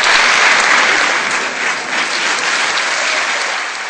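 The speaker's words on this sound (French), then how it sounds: "Je voudrais qu'on applaudisse Billy." An audience claps steadily and loudly for a young magician on a French television show, a dense, even burst of applause that eases off slightly toward the end.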